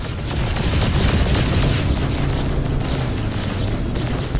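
In the space game Freelancer, turrets blast away at a battleship amid a dense, continuous roar of explosions and weapon fire, steady and loud throughout with no pauses.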